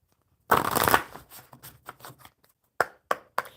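A deck of playing cards is shuffled during a casual live coffee-and-cards session: one long loud riffle burst, then a string of softer rapid flutters and a few sharp separate card snaps close to the mic.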